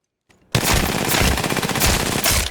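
An automatic pistol in a video game fires a rapid, sustained burst of loud shots after a brief faint click, the stream running unbroken to the end.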